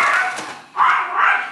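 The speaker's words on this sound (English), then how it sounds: "You yelling, he barking." A dog barks in a few loud, close bursts, with a brief pause between the first bark and two quicker follow-up barks, inside a home with no talking over them.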